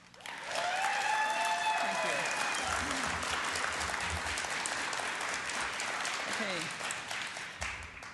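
Sustained audience applause fills a congressional district debate hall, loud and steady for several seconds with voices speaking faintly over it before it tapers off.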